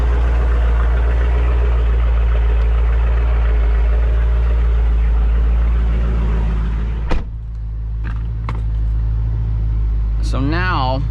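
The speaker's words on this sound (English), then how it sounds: "since doing the mid-muffler delete in the Hpipe install, it has completely transformed the way the car sounds." A 2020 Dodge Challenger Scat Pack Widebody with a mid-muffler delete and an H-pipe, heard from inside the car. The exhaust gives a steady, heavy low rumble that fills most of the stretch, with a brief sharp blip near the end.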